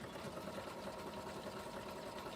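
A quilter's sewing machine runs steadily at a constant speed, producing a dense, even whir close by with no pauses or voices.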